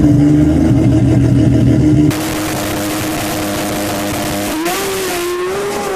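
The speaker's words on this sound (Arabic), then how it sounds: "كذا شكل سوبرا فيها 3000 حصان في حلبة البحرين." A Toyota Supra race car making 3000 horsepower roars loudly at the Bahrain circuit, its engine droning steadily and then shifting pitch as it revs and climbs through gears close by.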